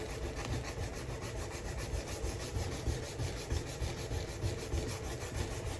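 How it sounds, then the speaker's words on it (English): Stainless steel pins in an old cleaver handle are sanded to take out grind lines, making a steady, close back-and-forth rasping scrub that keeps going without speech. "trying to sand the grind lines out of the stainless pins"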